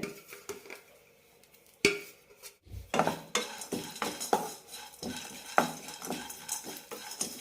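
Peanuts and grated dried coconut roasting in a dry pan, heard as repeated metallic scrapes and clinks of a spoon against the pan in an irregular rhythm, close and moderately loud, with faint sizzle.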